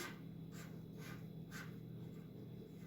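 A pen or pencil draws on paper, making a few short scratchy strokes at a close, quiet distance over a faint background hum.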